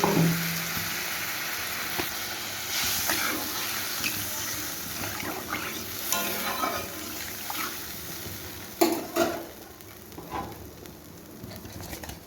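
Water poured into a pan of frying spice paste for a thin fish curry with vegetables, giving a loud sizzling hiss with steady bubbling and a sharper burst of spattering partway through.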